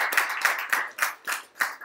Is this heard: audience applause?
yes